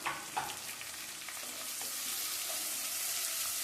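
Tomatoes with salt sauté in a hot pan with a steady hissing sizzle, a few soft stirring clicks early on, continuous and close.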